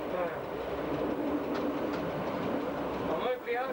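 Rumbling rail noise from inside a cab on the Divača–Buzet–Pula line, with steady clattering wheel sounds throughout and brief squeals near the end, while people talk over it.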